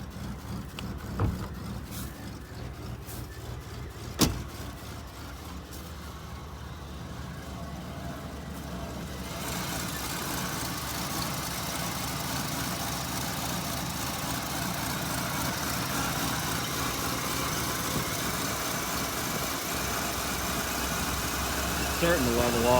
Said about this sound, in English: It sounds like it's got a dead cylinder.